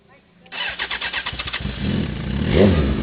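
A vehicle engine started with the clutch held down, cranking in a rapid rhythmic chug before catching and settling into a loud, rough idle, with people talking over it.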